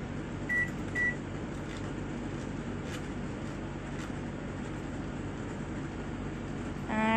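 A microwave oven hums steadily while baking a cake on a timer, a few short beeps sounding early as it is set, then an even whirring drone throughout.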